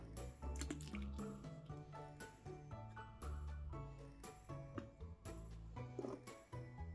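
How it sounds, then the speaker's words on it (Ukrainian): Milk pours into a cheese-and-pumpkin pie batter with faint, close dribbling and splashing sounds over several seconds, with no one speaking. "Ще сюди додаємо із загального об'єму 100 мл молока."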